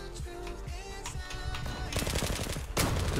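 An automatic M468 rifle in a video game fires in sustained rapid bursts, loud and dense, with crackling shots that grow heavier toward the end.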